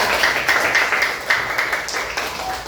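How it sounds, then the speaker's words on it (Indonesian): Classroom applause during an Islamic studies lesson on Asmaul Husna: dense, steady clapping from a group of students, fairly far off and moderately loud, lasting the whole moment with no talking over it. "Tepuk tangan buat kita semua."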